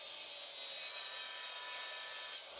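A wooden board is cut to length for a light box sign, producing a steady, continuous sawing rasp that stays close and even for nearly the whole span before easing off at the end, with no talking.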